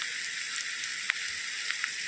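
Drumstick flowers (moringa) sizzling in hot oil with ginger garlic paste, a steady close frying hiss with a few small pops and crackles, no talking.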